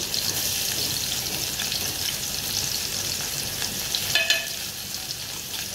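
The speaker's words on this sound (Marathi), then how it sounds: "आता तेलामध्ये टॅमॅटो टाकले" Tomatoes and ginger-garlic paste frying in hot oil make a loud, dense, continuous sizzle close up, with a brief scraping stir near the end.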